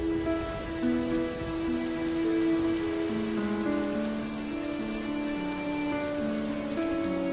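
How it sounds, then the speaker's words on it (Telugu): Heavy rain patters steadily on a surface while soft melodic music plays over it. "ఓ రోజు జోరున వర్షం కురవసాగింది"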